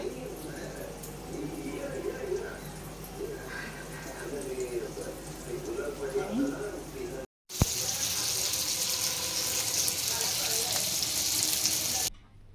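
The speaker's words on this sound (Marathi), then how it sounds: "सगळी मच्छी घेते फ्राय करायला ठेवते तव्यामध्ये" Fish frying on a tawa over a gas flame at home, a steady sizzling crackle that continues throughout, with a short break partway and a brighter, louder hiss after it.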